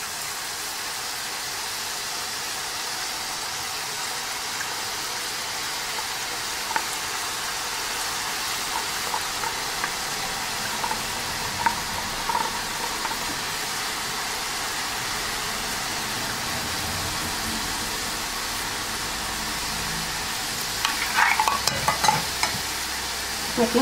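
Gram flour batter dripping through a perforated ladle into hot oil, with spicy boondi frying in a dense, continuous sizzle and occasional light metallic taps near the end.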